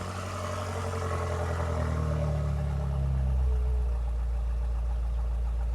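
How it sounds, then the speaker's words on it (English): A 2025 BMW M8 Competition Coupe V8 rumbles deeply at idle with its exhaust baffles open, loud and steady, its low throb settling as the revs drop slightly partway through. "It didn't take too long before it settled down into a deep, reverberating idle."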